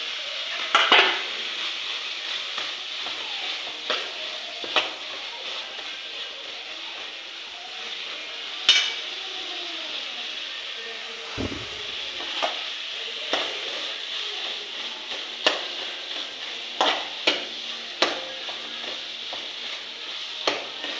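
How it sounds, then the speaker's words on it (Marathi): Prawns frying and being stirred in a pan for a village-style prawn curry, a steady close sizzle with frequent scraping and clinks of a utensil against the pan, no one talking. "आपले झिंगे फ्राय झालेले आहेत"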